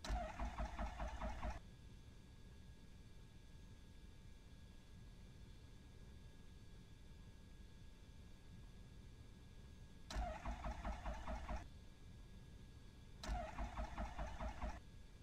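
Aircraft engine in the FSX flight simulator game cranking to start in three short bursts of broadband roar separated by a long low hum, with no voices.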